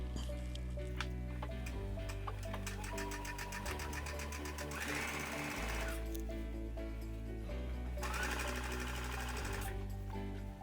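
A sewing machine stitches a hidden zipper using a special invisible-zipper foot with the needle centred, producing a fast, even mechanical chatter that pauses and restarts, close and continuous, with no speech.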